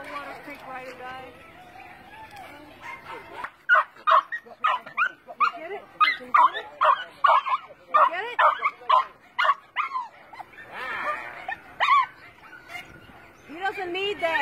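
A Jack Russell Terrier barks in a quick series of sharp, high yips and bow-wows, close and loud, with some whimpering, while people talk nearby before and between the barks.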